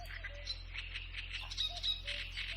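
Outdoor birdsong at a forest watering place: a reed warbler's scratchy, repetitive song with a fuller thrush singer joining in, over a low steady hum; a distant cuckoo is not evident.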